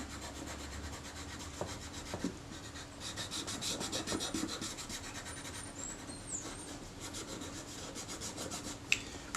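Crusty grime is scrubbed off a Retina IIc camera body with close, quiet, rasping strokes that repeat in a loose rhythm, sometimes broken by small clicks and knocks.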